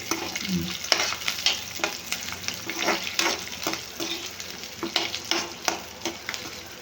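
Chopped colourful vegetables for egg fried rice frying in a pan, with steady sizzling broken by frequent clattering stirs and scrapes, close and busy, no voices.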